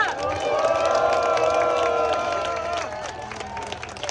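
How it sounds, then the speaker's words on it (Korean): A crowd at an outdoor Democratic Party election rally in Yeonggwang, South Korea cheers and applauds loudly with shouting voices mixed into the clapping, then the roar gradually fades toward the end. "큰 박수와 함성 부탁드립니다."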